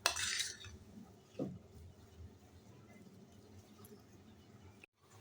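Potato mixed with spices and salt in a bowl, heard as a quiet scrape and clink of a utensil against the bowl with a few soft knocks. Sparse and faint.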